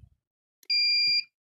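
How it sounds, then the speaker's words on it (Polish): A new furnace controller sounds its temperature alarm as a single steady, shrill electronic beep lasting about half a second, close and clear, with faint handling noises around it. "No to sprawdźmy, czy się alarm uruchomi przy"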